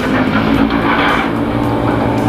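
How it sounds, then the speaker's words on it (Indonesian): A concrete mixer truck hauls fresh concrete past a toll road construction site, giving a loud, steady engine roar that fills the scene without speech. "itu adalah truk mixer sedang mengangkut hasil bahan beton segar"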